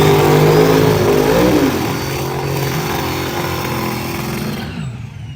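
A turbocharged radial-tire drag race car roars loud and steady at a heads-up drag strip, its engine note climbing then holding before fading off at the end.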